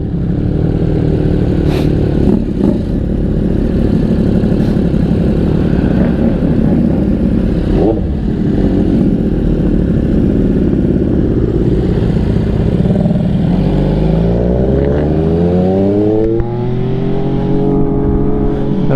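An MV Agusta motorcycle engine running loud and close while riding, a constant throbbing drone that climbs in a long rising rev near the end, then drops away.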